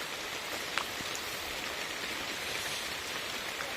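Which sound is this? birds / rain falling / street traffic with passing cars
rain falling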